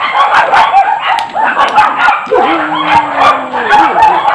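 Several dogs bark and yip repeatedly, close by, with one drawn-out whimpering whine in the middle and a voice underneath.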